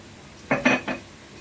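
A spoon clinks against a bowl while spices for gobi manchurian are mixed: three quick close metallic taps in succession, alone and crisp.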